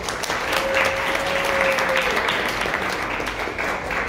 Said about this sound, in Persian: اولین نفر آقای حسین روشن تشویقشون کنید.